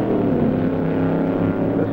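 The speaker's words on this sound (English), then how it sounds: "This is a slingshot dragster with a car body on it." Slingshot dragster with a car body and a 1957 Chrysler engine racing at the 1963 NHRA Nationals in Indianapolis, a dense, loud, steady engine roar with a low harmonic drone.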